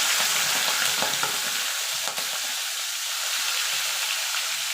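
Shrimp fry in hot white cooking oil with a loud, continuous sizzle and faint stirring clicks, close up and with no voices.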